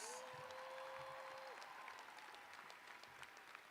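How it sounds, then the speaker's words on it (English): Graduates applaud themselves at a university commencement ceremony for the class of 2023, a steady, faint wash of distant clapping that fills the whole stretch, with a thin whistling tone briefly audible early on. "NJCU class of 2023, clap it up for yourselves"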